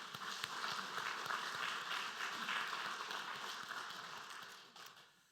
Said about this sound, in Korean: 할렐루야 찬양대 주일 경배 찬양팀 축복하고 격려하는 박수 한 번 더 하겠습니다.